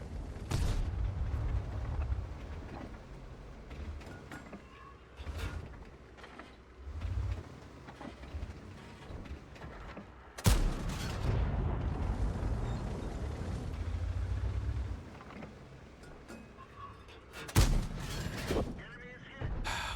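Tank cannon fire from the AAT60, an American tank in a video game: heavy booming blasts around 10.5 s and 17.5 s, with a few earlier bursts, over a constant rumble of engine and battle noise.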